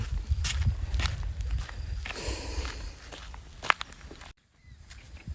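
Footsteps crunching along outdoors at a steady walking pace, fairly close, with a brief drop to near silence near the end.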